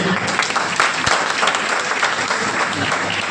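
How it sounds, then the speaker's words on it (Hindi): Dense audience applause at a political gathering fills the space, a steady wash of many hands clapping at moderate loudness with no break. "ताली बजा दो।"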